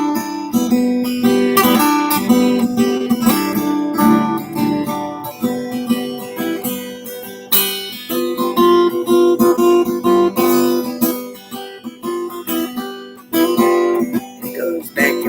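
Lively polka played on an accordion, reedy squeezebox music with bright chords and a bouncing rhythm, played steadily throughout with no talking.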